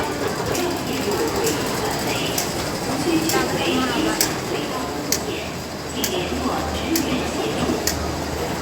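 Riding a train home in Sha Tin, Hong Kong: a constant rumbling, rattling carriage noise fills the space, with periodic clicks and clanks and muffled voices of passengers beneath the steady roar.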